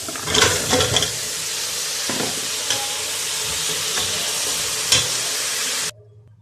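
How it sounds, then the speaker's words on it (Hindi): Masala for mutton paya fries loudly in a pot, a dense continuous sizzle with intermittent stirring clatter, then cuts off abruptly near the end. "अच्छा, इसको भूनेंगे।"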